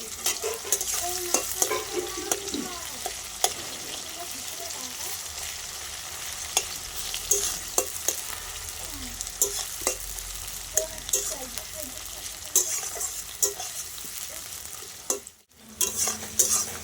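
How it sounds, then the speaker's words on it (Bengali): Chopped onions frying in hot oil with cumin in a pan, a continuous close sizzle broken by frequent stirring scrapes and clicks of a spatula throughout, no voices. "এখন এই পেঁয়াজ কেটে রেখেছি পেঁয়াজগুলো দিয়ে দিচ্ছি কুচানো পেঁয়াজগুলো"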